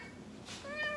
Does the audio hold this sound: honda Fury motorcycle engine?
no